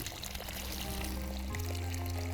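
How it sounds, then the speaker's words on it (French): Liquid fertilizer pours from a watering can onto a young fruit tree, a steady close splashing stream whose pitch rises as it flows, continuous and alone. "vous allez le mélanger à votre arrosoir et arroser votre plante avec, comme ceci"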